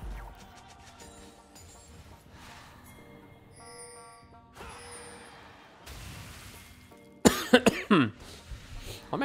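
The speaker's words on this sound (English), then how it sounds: "Why am I coughing today?" A person's cough breaks in loudly near the end, a short harsh burst standing out after quieter stretches of scattered game sounds and faint tones.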